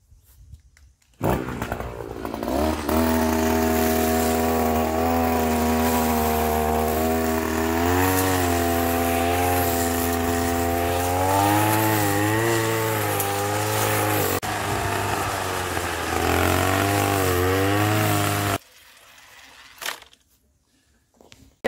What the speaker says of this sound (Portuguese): Misturei a gasolina óleo dois tempos, já coloquei ali, liguei a roçadeira.